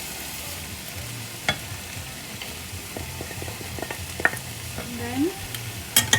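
Chicken for Chicken Chukka fries in a pan with powdered spices as it is stirred, giving a steady sizzle broken by repeated scraping strokes, with a few brief spoken words.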